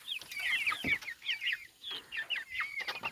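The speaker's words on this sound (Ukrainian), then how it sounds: "Такі гарнесенькі куриці." Several chickens cluck and chatter close by, a busy overlapping run of short high calls with no talking.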